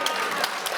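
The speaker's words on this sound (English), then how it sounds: "And I appreciate that applause" Audience applause at a fall 2024 convening, a short burst of dense clapping from a crowd, steady and moderately loud throughout.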